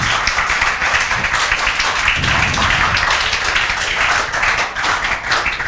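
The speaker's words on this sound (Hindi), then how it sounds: "जोरदार तालियां" Classroom applause for a student named among the top ten, dense steady clapping from many hands sustained throughout at close range, with no talk over it.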